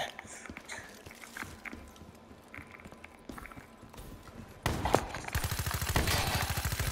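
Gunfire in the video game Call of Duty: Black Ops III: scattered sharp shots early, then a sustained loud burst of rapid automatic fire toward the end, close and dominant.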